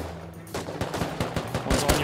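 Rapid gunfire in the Rust video game, a quick series of about eight sharp shots in an uneven burst, moderately loud with the last shots strongest.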